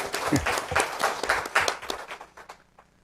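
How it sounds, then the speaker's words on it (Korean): A church congregation applauds together at an Easter Sunday service, a dense burst of clapping that gradually thins and fades out near the end, with a brief voice mixed in. "우리 하나님께 영광의 박수 올립니다"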